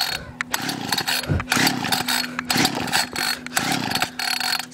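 A Homelite chainsaw being pulled over with the choke on, its engine catching in rough, sputtering bursts between recoil pulls, loud and close with no talk.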